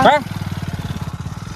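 A motorcycle engine runs at a steady, rapid putter close by, its regular pulsing firing lasting just over a second right after a brief burst of speech.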